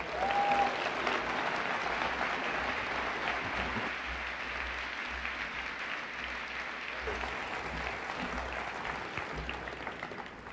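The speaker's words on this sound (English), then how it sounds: "Let's give a big, big round of applause to Elon Musk." Sustained audience applause fills a large hall following an introduction of Elon Musk at a talk on energy, a dense, steady roar of many hands clapping that runs the full length and tapers slightly toward the end.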